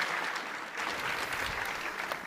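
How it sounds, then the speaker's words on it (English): Conference audience at a JavaScript testing summit applauds a speaker, a steady, moderately loud round of clapping from the hall with no talk over it. "Let's give another round of applause."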